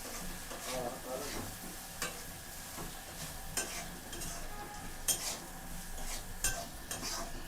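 Dal being fried with spices in a pan while a utensil stirs and scrapes it, a continuous sizzle broken by sharp metallic clinks and scrapes at irregular intervals, close and fairly loud.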